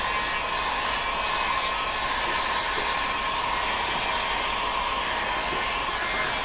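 Continuous close roar of a heat gun turned down to about three-quarter power, warming a small section of PVC pipe to bend it into a bow, steady and unbroken throughout.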